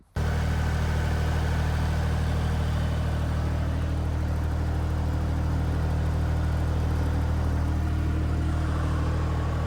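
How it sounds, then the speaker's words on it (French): A tractor engine runs throughout with a heavy, steady low rumble, loud and close, as from the driver's seat, with no speech. "Donc allez, je vous monte sur le tracteur."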